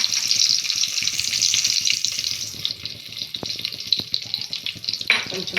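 Cashew nuts frying in a pan for a quick lunch-box rice dish, a soft continuous sizzle with faint scraping and occasional sharp clicks, fairly quiet and without talk.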